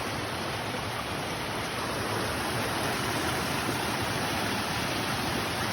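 Long Creek in North Carolina rushes steadily, a dense, even hiss of flowing water that holds without pause throughout, with no voices.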